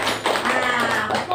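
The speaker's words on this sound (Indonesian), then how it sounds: "kasih tepuk tangan" Children applauding in a classroom, a short dense burst of rapid clapping with taps layered close together, loud and continuous, with voices mixed in.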